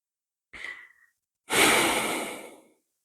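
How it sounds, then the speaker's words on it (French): During a calm hatha yoga session, someone breathes slowly and deeply, close to the microphone. A short, soft inhale comes first, then a pause, then a longer airy exhale that trails off. "La respiration est ample et tranquille."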